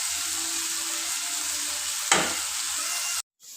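Okra fries in a pan with a steady, bright sizzling hiss; a single stir adds a brief louder splash of crackle before the sound cuts off abruptly.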